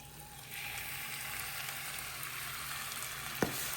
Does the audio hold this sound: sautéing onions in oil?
yes